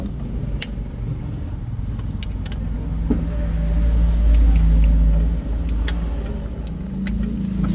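A noisy 4D56 engine running just after start, a continuous mid-level drone with a swelling stretch midway and scattered ticks and clicks over the steady hum.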